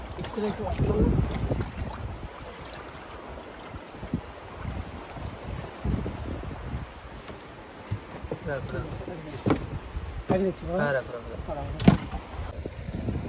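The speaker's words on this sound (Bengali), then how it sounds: "ঢেউ হাওয়া তো আছে" Wind buffets the microphone and water sloshes against a boat in an open-water setting, with people talking intermittently over the rough, gusty noise.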